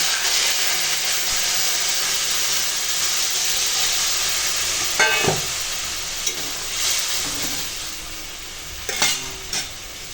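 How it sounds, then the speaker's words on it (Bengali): Water poured into a hot pan of spiced vegetables and tubers cooking in a home kitchen, a steady loud sizzle and hiss with a few sharp clinks and bursts of bubbling near the end. "এখন মশলার সঙ্গে আনাজ কষানো হয়ে গেছে আর দিয়ে দেব জল"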